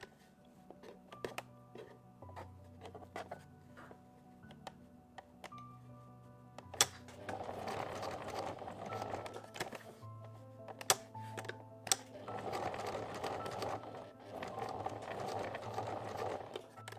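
Household sewing machine stitching fabric scraps into coasters, running in bursts of steady mechanical whirring and clatter close by, with quieter pauses and handling clicks between runs.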